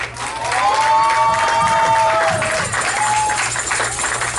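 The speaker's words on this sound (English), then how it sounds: "Let's get another hand clap to Cameron." Audience applause and cheering at a community event honoring performers, a loud sustained wash of clapping with whistles and crowd noise throughout.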